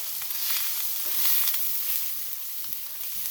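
Gochujang-coated seafood with ginger and garlic sizzling hard in a hot pan as it's stirred: a continuous bright hiss with soft scraping strokes underneath, close and steady, with no one speaking.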